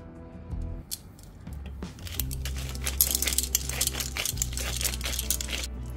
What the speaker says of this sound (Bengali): এবারে গোলমরিচ গুঁড়োটা ক্র্যাশ করে নেব